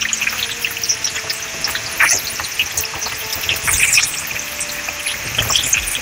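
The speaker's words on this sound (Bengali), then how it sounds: "এখন মাছগুলোকে হালকা করে ভেজে নেব" Pieces of katla fish shallow-frying in oil in a pan, a steady close sizzle with scattered pops and crackles running throughout, with faint bird calls audible in the background.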